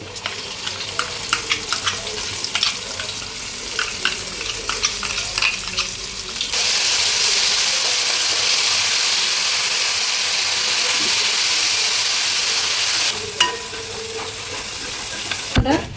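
Garlic, ginger, mustard and cumin ground in vinegar frying in a pan for fish pickle, with a steady loud sizzle that rises sharply mid-clip as the paste hits the hot oil, stirring scrapes before and after.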